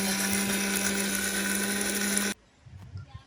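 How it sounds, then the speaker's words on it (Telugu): A kitchen mixer grinder whirs loudly and steadily, grinding deep-fried spices to powder for a homemade fish pickle, then stops abruptly, leaving faint rattling and room noise. "మిక్సీ పట్టుకుని పౌడర్ లాగా తయారు చేసుకోవాలండి"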